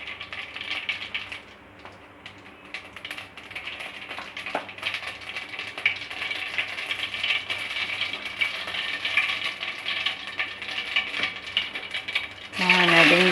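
Cumin and mustard seeds sizzling in hot oil for a masala bhindi fry, a steady crackling hiss with tiny pops that runs throughout, growing a bit louder near the end.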